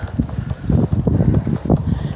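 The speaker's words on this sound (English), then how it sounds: "And you can hear the cicadas," Cicadas on a warm summer day at Cockatoo Island, a steady high-pitched buzzing drone that runs unbroken through the whole clip, with low rumbling noise beneath it.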